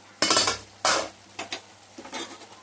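A metal spoon scrapes and clanks against a pot as a few small chopped tomatoes are stirred into oil for a country-chicken curry, in four separate bursts of stirring with short pauses between them.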